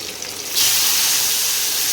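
Fish, gule mach, hit hot oil and break into a loud, bright sizzle about halfway through, a sudden hiss that then holds steady and close with no voices.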